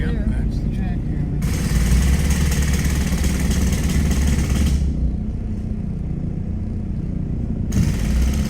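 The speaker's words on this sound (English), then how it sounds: "that's the jackhammer." A jackhammer pounds on a road at a roadblock in Gatlinburg, heard from inside a car as a steady, loud mechanical rattle with engine rumble underneath, continuing throughout with a brief quieter patch.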